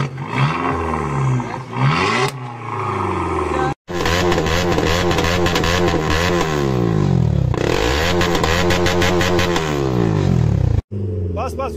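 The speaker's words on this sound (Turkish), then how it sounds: "Gaz ver. Gaz ver." A vehicle with a loud modified exhaust, checked at a traffic enforcement stop, is revved hard again and again: a roaring engine climbs and falls in repeated sweeps, with brief cutoffs between bursts and voices faintly underneath.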